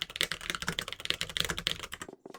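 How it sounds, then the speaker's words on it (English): Fast, steady clatter of keys on a computer keyboard, close and dense, stopping abruptly near the end with a few last taps. "Type that into your search."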